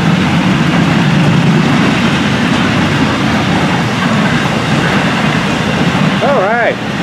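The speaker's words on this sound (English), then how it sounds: "All right, good looking train. A lot of piggybacks on this one." A freight train carrying many piggyback trailers rumbles past continuously with heavy, steady rolling noise and clatter, loud and near, with a brief warbling tone near the end.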